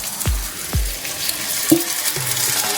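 Boiled dal, cooked with salt and a little turmeric, goes into a hot pan for dhaba-style egg tadka: two sharp splashes bring on a loud sizzle, followed by stirring clatter and steady frying hiss, with no talking.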